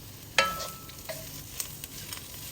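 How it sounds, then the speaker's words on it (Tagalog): Bagoong alamang and pork are stirred in hot oil, giving a faint, soft sizzle broken by a sharp scrape at the start and a few light clinks from the spoon. "Haluing mabuti para hindi siya dumikit sa pan."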